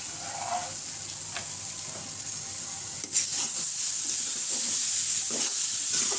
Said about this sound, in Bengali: আস্তে আস্তে রুটিগুলো ভেজে নিচ্ছি